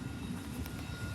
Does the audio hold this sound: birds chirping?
no